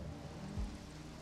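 Steady rain in the Assetto Corsa racing game, set at night on a mountain pass: a dense, continuous hiss, quiet and even, with a brief low rumble partway through.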